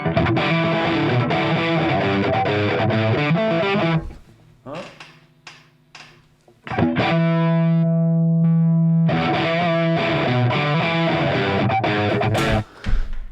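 Electric guitar through a Nobels ODR-1 overdrive pedal: gritty, sustained chords break into sparse picked notes and a held ringing chord before the crunchy strumming returns.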